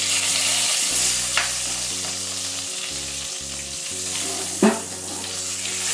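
Whole spices (small cardamom, cinnamon, cloves, a little nutmeg and bay leaves) sizzling in oil for potato dum while being stirred: a close, continuous crackling fry with scraping strokes and a sharp clink near the end, over faint background music.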